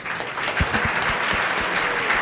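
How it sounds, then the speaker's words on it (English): Audience applause at a leadership summit fireside chat, a steady full round of clapping from a seated crowd, with some individual claps standing out near the front. "please continue clapping"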